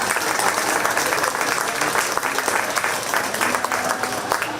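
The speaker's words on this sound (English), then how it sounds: "Give them a great big round of applause" An audience at a 4-H pie and muffin auction at the Shelby County Fair gives a sustained round of applause, dense and even clapping that fills the whole stretch, with faint voices mixed in.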